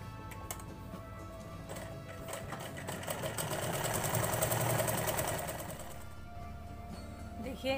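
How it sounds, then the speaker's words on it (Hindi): An electric sewing machine runs steadily, stitching fabric for a heart-shaped blouse design, a fast, even mechanical whir with rhythmic clicks that swells midway and then tapers off. "इस तरह से मैंने इसमें सिलाई लगाकर इसके ऊपर से तैयार कर दिया है"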